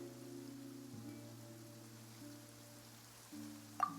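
Rain falls steadily as a soft, faint hiss that runs throughout, heard under quiet sustained music tones and ending with a small bright click, with no voices.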